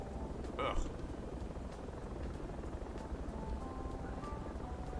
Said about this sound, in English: Now you can recover the helicopter.